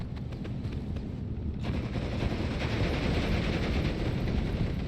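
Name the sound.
flak gun firing in Steel Division 2 video game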